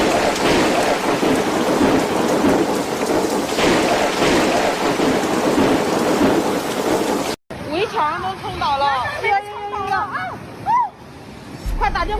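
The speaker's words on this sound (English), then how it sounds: "This storm is so powerful that it overturned massive tankers in just a matter of seconds." A powerful thunderstorm roars with heavy rain and rumbling thunder for several seconds. Then an abrupt cut gives way to quieter rain under people talking.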